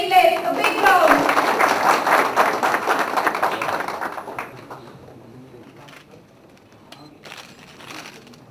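Audience applause at a Punjab agricultural and food enterprise awards ceremony, a broad round of clapping that fills the first four seconds, then fades to scattered claps and room murmur.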